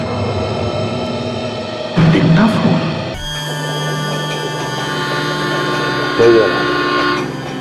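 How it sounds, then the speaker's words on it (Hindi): Train rumbles past with a steady mechanical drone, then a loud horn blast; voices are heard briefly. "दो सीरीज में ट्रेन के जाने की आवाज, ट्रेन के हॉर्न की आवाज"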